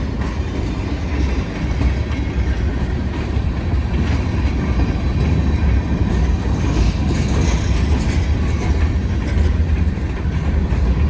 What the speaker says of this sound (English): Yep, the other one is moving